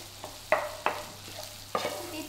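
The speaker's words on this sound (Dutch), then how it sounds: "als je dat vlees bakt, dat je die stukjes goed fijn doet" Minced meat frying in a pan while being stirred and broken up for a gehakt parmentier, with a steady sizzle punctuated by three sharp scraping clacks of the utensil against the pan, close and without talk.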